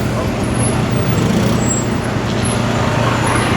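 Dense, steady roadway rumble from congested traffic, with idling cars, buses and trucks packed close around a motorbike stuck in a jam; a constant low engine drone fills the scene with no clear gaps.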